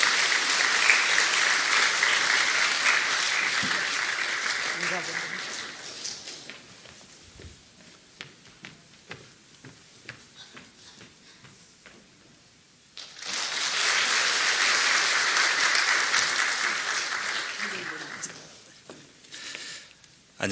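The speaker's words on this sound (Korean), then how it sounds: "힘찬 박수로 잠깐 맞이해 주시기 부탁드립니다." A church congregation bursts into warm applause welcoming a guest from Spain, the clapping loud and sustained, fading to scattered claps, then swelling again into a second full round.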